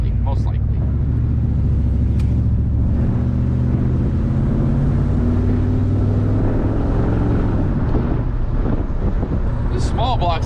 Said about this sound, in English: This small block's got a little, still some kick left in her.